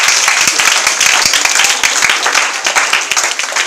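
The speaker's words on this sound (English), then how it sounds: "clap for Jesus" Children at a church deliverance session clap hands loudly and close by, a dense crackle of overlapping claps with a few distinct sharp hits and some voices mixed in.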